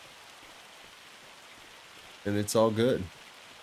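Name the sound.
hail falling in Farming Simulator 25 video game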